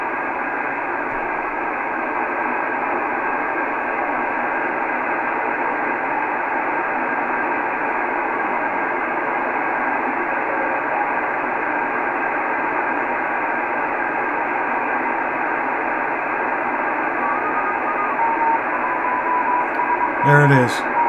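An XW-2C amateur-radio satellite beacon comes through a receiver as a continuous tone in dense hiss and static, its pitch slowly sinking from Doppler shift. It holds steadily throughout, with a brief disturbance near the end.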